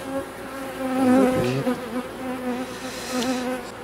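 Honeybees buzz close around a hive while an artificial swarm is being created, a loud droning hum with wavering pitch as individual bees pass near.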